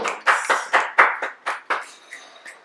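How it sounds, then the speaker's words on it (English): A small group claps briefly during a game-show style score announcement, about nine distinct, loud claps in a loose rhythm that trail off and soften toward the end. "Let's clap on that."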